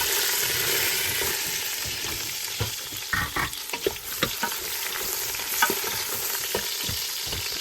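Onions frying in two to three tablespoons of oil, a steady broadband sizzle with scattered stirring scrapes and clicks of a utensil against the pan, close and continuous with no talk.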